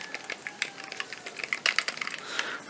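Buttons on a Razer Tartarus gaming keypad pressed in quick, irregular bursts of close, crisp clicks, a steady clatter like fast typing.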